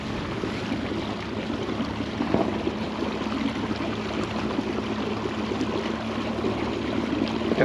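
A MotorGuide Xi3 saltwater trolling motor runs on a Hobie PA 14 kayak, sitting shallow in the water, producing a constant churning, splashing wash with a steady low drone throughout.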